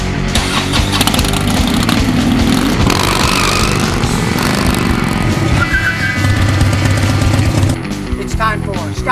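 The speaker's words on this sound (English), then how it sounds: "Rev up your engine." Car engine revving loudly and continuously, rising and falling in pitch, then easing off near the end; a voice can be heard over it.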